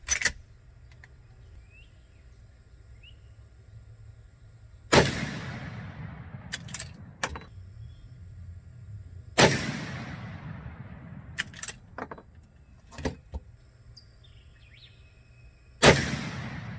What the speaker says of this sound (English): Okay, 3 shots at the coupons with the 350 grain round nose jacketed bullet from Hornady.